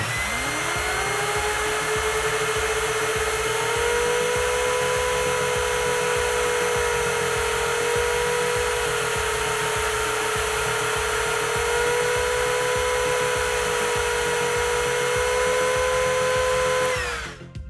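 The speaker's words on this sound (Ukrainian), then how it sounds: "Так само приставляю пилосос, щоб він повністю примкнувся до ось цієї площини вентилятора і вмикаю." A Makita 18V cordless vacuum cleaner is pressed against a fan housing and runs steadily with a loud, close, high motor whine that rises at switch-on, holds for about seventeen seconds and then cuts off.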